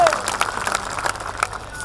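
An audience at a mushaira claps, a lively burst of many hands with uneven sharp peaks, while a voice speaks briefly over the applause.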